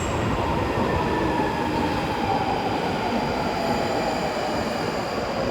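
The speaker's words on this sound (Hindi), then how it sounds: "मेरी ट्रेन आ गई है जी" A London Underground Northern line train pulls into the platform, a loud continuous roar of wheels and rails with a faint high squeal over it, no talking.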